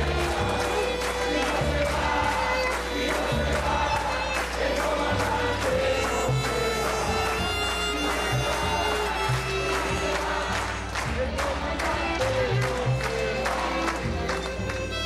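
A large crowd gathered in Venezuela's National Assembly cheers and chants loudly and continuously, rhythmic shouts and applause swelling throughout, at Hugo Chávez's 2012 annual address.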